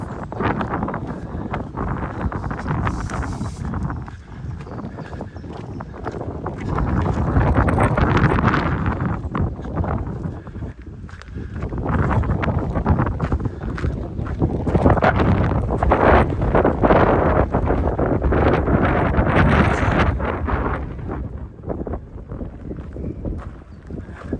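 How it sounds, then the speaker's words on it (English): Strong wind at Belvoir Castle Gardens near Grantham buffets the microphone in heavy, roaring gusts that rise and fall continuously, with no voices. "It suddenly got very windy up here."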